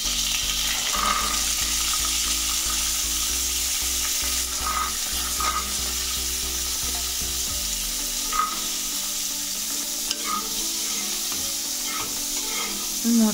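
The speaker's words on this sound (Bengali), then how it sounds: "এবার আমি মটরশুঁটিগুলো কিছুক্ষণ ভেজে নেব।" Green peas fry in a pan, giving a steady close sizzle with occasional scraping and stirring clicks from a utensil, continuous and fairly loud, no talking.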